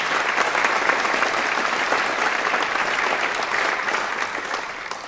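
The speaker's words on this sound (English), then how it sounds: "so let's give her a big round of applause" A high school audience at a 2021 senior awards night applauds in a dense, steady roar of clapping that holds evenly throughout, loud and close.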